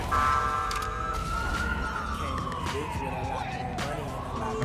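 A police siren wails in the Watch Dogs 2 video game during a chase, a rising and falling tone over game noise and background sound, with a person talking.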